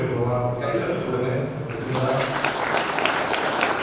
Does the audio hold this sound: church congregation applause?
yes